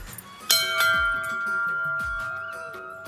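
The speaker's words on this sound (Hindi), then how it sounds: "घंटी बजाएं?" A small bell rings in a few bright, sustained strikes, its metallic tone lingering between hits, with soft background movement.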